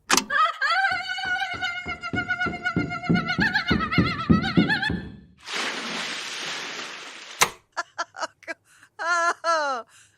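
Quick pounding steps of a person running up a ramp under a rising whine end in a heavy, noisy splash into a 10-foot deep dunk tank, followed by a sharp crack and some short vocal sounds.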